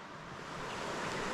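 Deep Maroka River water rushing steadily in the high country, a broad continuous wash of flowing water that swells slightly louder partway through, with no voices.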